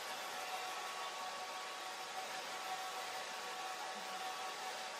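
A hair dryer blows steadily to dry a watercolour painting of a Christmas robin, a constant even whoosh that stays faint and continuous throughout, with no talking.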